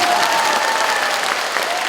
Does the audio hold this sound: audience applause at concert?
yes